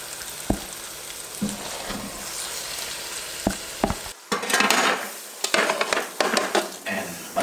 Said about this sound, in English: You'll never go wrong frying your tomatoes very well